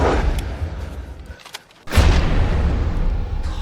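Loud gunshots ring out in a dramatized fight scene, a sharp blast followed by a brief lull and then a second heavy booming shot with lingering echo.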